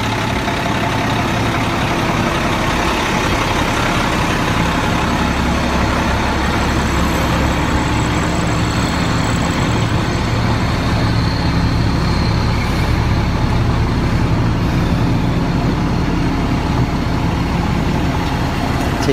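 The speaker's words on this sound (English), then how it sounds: "Well, they brought the fire truck out." A fire truck engine idling nearby, a loud steady diesel rumble that holds constant throughout with no talk.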